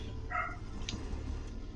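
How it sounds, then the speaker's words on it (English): Dogs bark a few times at moderate distance in the Stoneshard video game, short yelps over a low background ambience. "Dogs are barking."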